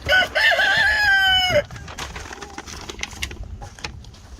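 Chickens in a coop: a loud rooster-like crow or drawn-out squawk up front, then softer scattered clucks and scratching in the bedding, close by with no speech.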